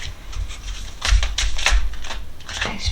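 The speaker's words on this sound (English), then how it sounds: "I'll shuffle a bit more." Tarot cards are shuffled by hand in crisp, rapid riffling bursts with soft taps in between, close and fairly loud, with no talking.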